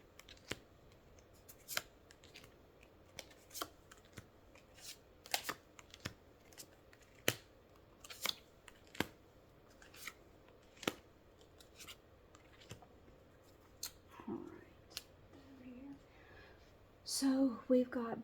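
Scissors snip repeatedly through tarot cards, a long string of sharp, close, separate cuts at uneven intervals, with soft paper rustling and handling noises near the end.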